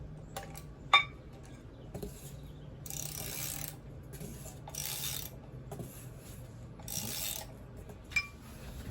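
A ratchet wrench tightening front suspension bolts on a 1985-89 first-generation Toyota, with soft repeated ratcheting strokes in short bursts and a few sharp metallic clinks, close but quiet.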